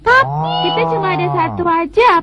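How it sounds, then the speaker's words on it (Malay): A drawn-out, low mooing call from a cartoon, cow-like and close, followed by a short voiced sound at the end. "Bunyinya macam lembu."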